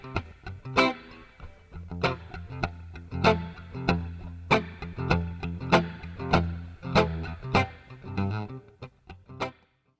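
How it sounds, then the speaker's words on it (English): Isolated electric guitar played through a Fender Twin Reverb amplifier with spring reverb, a continuous strummed and picked part with rhythmic chord attacks and ringing sustain, close and full, no voices. "He's playing through his Fender Twin reverb amplifier."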